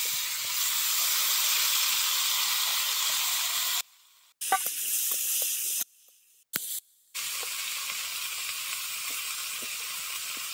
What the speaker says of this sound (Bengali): এবার আমি ইঁচড়গুলো ভেজে নেব।